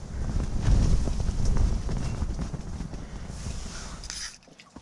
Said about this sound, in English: That's how gusty windy it is.